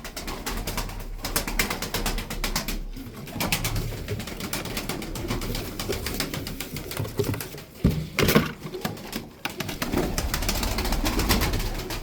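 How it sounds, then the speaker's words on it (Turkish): Several pigeons, a flock of about ten tumbler pigeons, coo and flutter nearby over a continuous rustling, scratchy background, with occasional wing flaps. "On tane kuş var abiler böyle"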